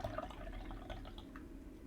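Brewed sencha green tea is poured into a cup, a faint, short trickle of liquid with a few soft drips, heard close up and quiet.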